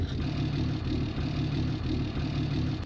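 A Ford F350 diesel truck in Farming Simulator 2019 idles steadily after starting, a loud, even low clatter with a slight repeating pulse and no voices.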